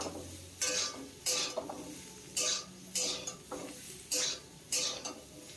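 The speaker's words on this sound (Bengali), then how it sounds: "তো এইভাবে এঁচড়টাকে হালকা করে ভেজে নিতে হবে" Young jackfruit fries lightly in a pan, a spatula scraping and stirring in regular strokes roughly every second, each stroke a bright rasp over a low sizzle, close by with no talk.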